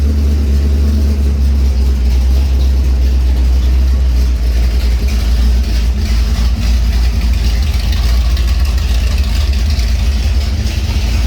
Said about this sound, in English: Cam was supposed to have a noticeable idle, and I know we haven't tuned it yet or anything, but that's pretty noticeable.